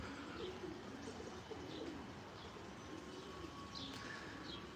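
Racing pigeons at a loft coo softly in repeated low, rolling calls, a few faint chirps mixed in, heard at a distance over a quiet background.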